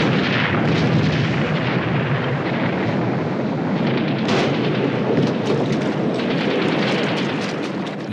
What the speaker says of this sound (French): Les troupes de Vichy accueillent les soldats américains à coups de canon.